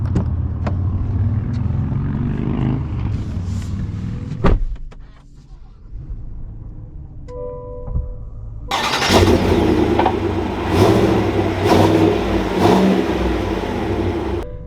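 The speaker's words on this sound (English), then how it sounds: "let's take her out and see how she drives." A 2021 Chevy Suburban High Country setting off on a test drive, with a low engine hum and a brief whirring mechanism, then the engine revving louder and accelerating close by.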